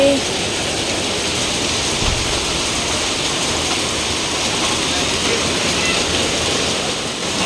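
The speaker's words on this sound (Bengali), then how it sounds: "দেখো কি সুন্দর বৃষ্টি হচ্ছে" Steady rain pours down outdoors, a dense, even hiss that holds at the same loudness from start to finish without any break.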